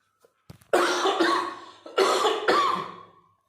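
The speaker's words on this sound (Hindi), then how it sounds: "देखिए थोड़ा सी खांसी अभी भी है मुझे" A person coughs several times in two clusters, harsh and close, with a short pause between the fits.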